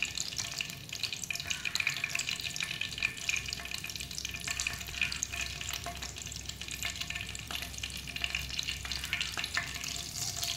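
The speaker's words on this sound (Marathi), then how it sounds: "मोहरीचे दाणे फुटायला लागले, त्याच्यात मी 1 चमचा मेथी घातली, अख्खी मेथी।" Steady close crackle and sizzle of mustard seeds and whole fenugreek frying in hot oil, continuous and fairly even throughout with no talk.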